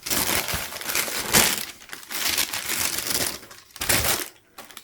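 Quality wrapping paper from a Prada Prax 01 sneaker box crinkles and crumples loudly up close, continuous rustling handling with brief pauses and no talking.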